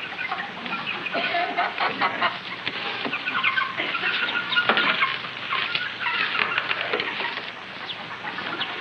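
A busy flock of chickens clucks and squawks continuously, with scattered pecking and rustling, moderately close and without pause.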